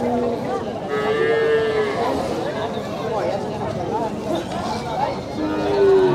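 Cattle and water buffalo low repeatedly at a livestock market in Magallon, Negros, with long moos rising over a steady murmur of crowd chatter and voices.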